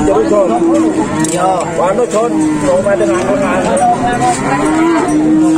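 Cattle moo repeatedly, their low, drawn-out calls overlapping one another up close at a noisy livestock market in Gondanglegi, Indonesia.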